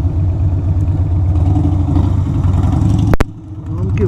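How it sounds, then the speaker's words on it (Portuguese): An old Suzuki Intruder 800 motorcycle rumbles loudly and steadily at low revs on the road, a coarse continuous engine throb with a brief clack near the end as it settles lower. "Moto barulhenta da porra, homem."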